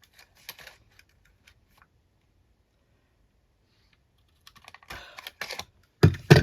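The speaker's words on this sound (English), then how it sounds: "I use a punch so I don't have to cut" A hand punch pressing a hole through journal paper, heard as a few sharp clacks and crunching snaps near the end after a mostly quiet stretch, close and fairly loud.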